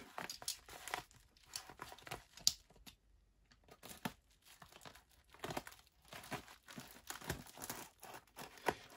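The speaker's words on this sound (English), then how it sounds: "Right, let's cut the end of the envelope." Scissors snip and rustle through the end of a paper envelope holding an Action Man eBay purchase, with close, faint crinkling and tearing bursts in uneven spurts separated by quiet pauses.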